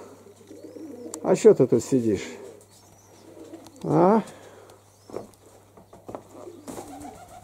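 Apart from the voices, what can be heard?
pigeons cooing in a dovecote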